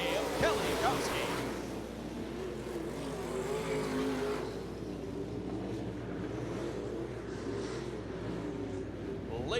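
Dirt car UMP modified race cars roar around a dirt speedway during a heat race finish, a continuous, distant engine drone with shifting revs, while an announcer talks over the PA.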